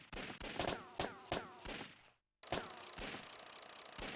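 Gunshots from the Time Crisis video game on PlayStation, played with a Namco light gun, ring out as several sharp, loud single bangs spaced apart, with a short silent gap midway and a more continuous stretch of game noise afterward.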